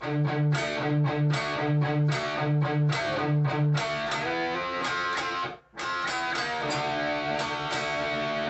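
A distorted electric guitar plays a chugging riff from a song, with repeated palm-muted hits and strummed chords, alone and fairly loud.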